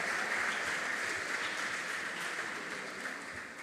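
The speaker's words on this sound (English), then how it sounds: "All right, please, a round of applause for them." A school audience applauds students from Basic 9 at an inter-school event, a steady, dense wash of clapping that stays fairly even and fades slightly toward the end, with no voices over it.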